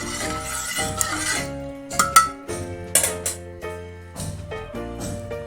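A metal spoon stirs salt and turmeric into oil in a pan for a raw jackfruit kofta curry, making close, irregular clinks and scrapes against the pan with short pauses between strokes.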